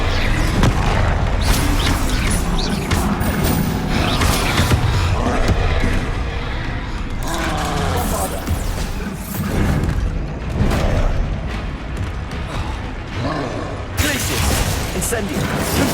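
Booming spell blasts from Hogwarts Legacy gameplay burst in a dense, continuous barrage, loud and close, with crackling impacts and whooshes layered under a voice calling out spell names throughout.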